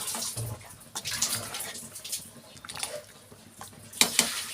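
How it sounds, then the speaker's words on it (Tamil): A small amount of water is poured into a pot of cabbage sambar with mashed cooked dal, a soft continuous splashing trickle at moderate level with a few clinks near the end. "கொஞ்சமாக தண்ணி ஊற்றிக்கலாம்."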